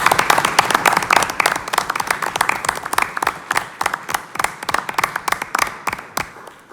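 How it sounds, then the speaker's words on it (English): A school board meeting audience gives a round of applause for a departing board member. Loose, distinct claps start fairly thick, then thin out into scattered individual hand claps that fade toward the end. "can everyone join me in a round of applause"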